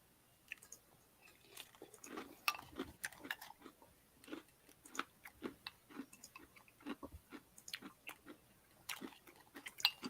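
Crunchy brownie brittle is chewed close to the mic, with steady irregular crackling bites and crunches spread across the whole stretch and no talking.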